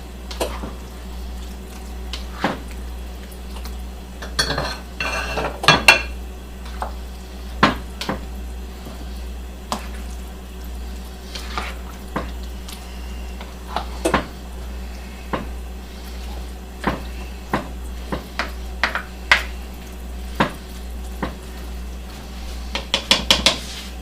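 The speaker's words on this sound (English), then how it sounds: "Get it stirred in." A spoon scrapes and clanks in a full pot of baked ziti with yellow squash and zucchini, with intermittent knocks against the metal and soft wet squishes between, fairly close over a steady low hum.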